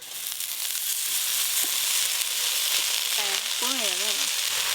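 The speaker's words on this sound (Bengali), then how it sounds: "পেঁয়াজগুলো একটু ভালো করে ভাজা ভাজা করে নিয়েছি, এবার কেটে ধুয়ে রাখা 7 রকম শাক দিয়ে দেব।" Seven kinds of chopped greens frying in a pan with browned onions and dried chillies, a continuous crackling sizzle with a few scrapes, while a voice briefly sounds near the end.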